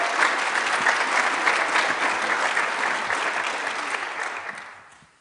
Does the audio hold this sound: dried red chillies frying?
no